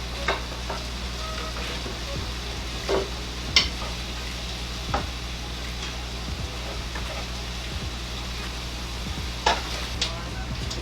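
Cabbage frying in oil in a pan gives a steady, soft sizzle, broken by occasional sharp clicks and taps of a utensil against the pan.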